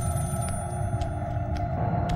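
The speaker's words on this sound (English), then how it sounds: "My phone is ringing." Telephone ringing inside a horror video game, a repeating electronic ring with short bursts roughly every half second over a steady low hum, fairly close and without talk.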